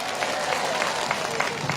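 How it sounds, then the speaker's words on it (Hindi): Crowd clapping at a political rally in Yachuli, Arunachal Pradesh, a thick wash of many hands close by that stays level through the short span. "इसके लिए एक बार जोर से ताली बजाइए"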